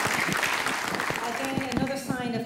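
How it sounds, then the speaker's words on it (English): An audience at a sports partnership strategic plan launch applauds, clapping starting fairly strong and thinning out while a voice speaks over it toward the end. "I think a round of applause for that"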